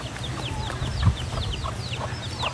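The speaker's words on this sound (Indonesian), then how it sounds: "Yang ada di sini ayam." Several chickens cluck and chirp nearby over a steady low background rumble, with no talking.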